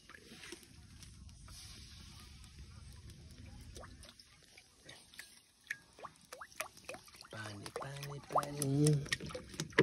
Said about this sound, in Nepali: म चाहिँ पानी हालेर हाल्छु, पानी